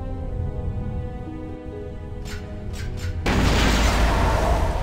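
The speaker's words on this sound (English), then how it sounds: "Ion grenade!" An ion grenade goes off in the video game KOTOR 2 with a few short, bright electronic zaps and then a sudden loud, broad burst that keeps crackling to the end, heard close without talk.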